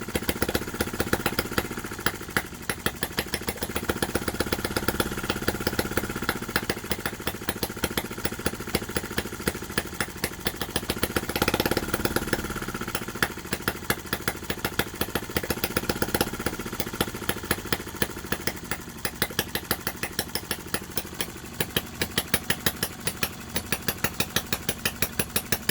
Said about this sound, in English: this is my first petrol gas engine that's not jumping around like a jackrabbit